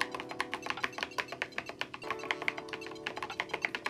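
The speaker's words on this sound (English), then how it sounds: "This one's using like a piezo speaker. And the speaker can't actually keep up with my typing." Rapid typing on a Mechwild Clunker keyboard, a steady stream of close clicky keystrokes, each paired with a short high-pitched beep from a piezo speaker.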